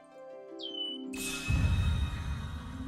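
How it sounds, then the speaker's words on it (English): Red-winged blackbird call from the Final Fantasy 7 Rebirth video game, a single short rising whistled note followed by a buzzy trill over steady game music and ambience, fairly faint. "And a red-winged blackbird."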